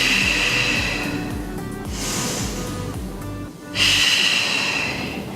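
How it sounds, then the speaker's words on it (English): Strong, forceful breathing through a power yoga pose, with broad airy inhales and exhales rising and falling over steady background sound, loud and close to the listener. "Strong breaths."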